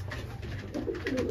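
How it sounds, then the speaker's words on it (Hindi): Purebred Dhanne wale pigeons, a Punjabi breed kept in a loft, cooing softly in low repeated murmurs close by, with a steady low hum underneath and no talk. "ये देखो जी प्योर धन्ने वाले कबूतर।"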